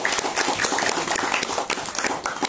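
An audience at a gathering applauds, a dense, loud wash of many hands clapping at once that holds steady for a few seconds with no talk over it.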